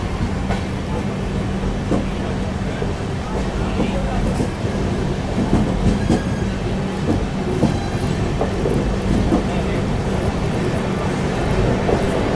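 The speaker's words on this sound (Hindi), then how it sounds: "अभी एक छोटे से रेलवे स्टेशन पे अपनी ट्रेन को रोका गया था और बगल में लगी है मिथिला एक्सप्रेस" Express train rolling steadily on rails past the stopped Mithila Express at a small Indian railway station, a continuous broadband rumble with a low hum and scattered clacks throughout.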